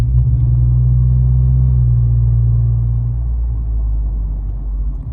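A Ford Raptor twin-turbo V6 with an aftermarket exhaust idles on light throttle, giving a loud, steady, deep rumble that eases slightly in the second half.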